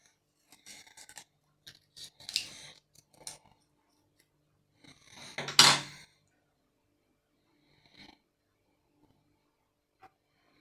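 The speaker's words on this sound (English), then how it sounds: "I'm cutting them out. The first two with my trusty nail scissors." A few small snipping clicks of nail scissors cutting out model aircraft kit parts, scattered and close, with one louder rustling snip near the middle and quiet gaps between.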